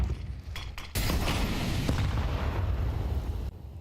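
Grenades bursting in a Counter-Strike professional match, a dense, loud barrage of booming blasts that swells after a brief lull and rumbles on nearly unbroken before cutting off near the end.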